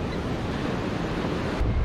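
Ocean waves roll in at Manly Beach as a loud, steady surf roar, thick with wind buffeting the microphone and no voices.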